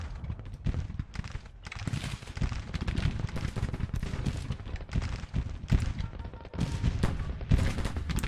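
Continuous crackling musket volleys with heavier cannon booms mixed in, a dense, irregular barrage in a Grand Tactician Civil War battle, with no voices over it.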